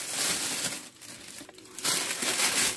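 A plastic oven bag crinkles loudly as it is closed around a floured pigeon in a kitchen, with continuous close rustling and crackling that dips briefly midway and then resumes, with no talking.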